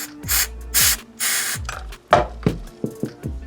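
Cleaner is sprayed into the body of a 1980s Ibanez guitar during a restoration: three sharp hissing bursts from the nozzle, followed by light knocks and rubbing noises, all close by.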